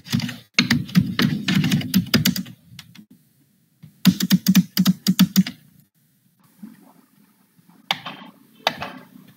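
An SQL query being typed on a computer keyboard during a live interview: close, crisp bursts of rapid keystrokes separated by pauses, with a few isolated taps near the end and no talking.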